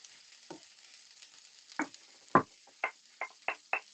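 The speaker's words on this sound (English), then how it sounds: "So onions go in, and then the carrots, which we grated up." Onions and grated carrots fry in a pan for an Italian beef ragu, a steady sizzling hiss broken by several sharp clacks and scrapes of a spoon against the pan, growing more frequent toward the end.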